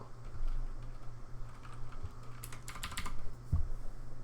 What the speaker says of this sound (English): Just type in your username or a PC name.